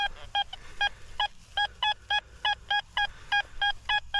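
Metal detector set to high square with a 10 offset beeps out a target tone over iron: a quick run of short, evenly pitched electronic beeps in an irregular stutter, clear and close with no talk over it.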